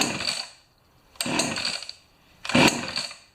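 Pioneer Partner 500 chainsaw with chain oil freshly added, revved in three loud, rough bursts separated by short lulls, close up and with no talking.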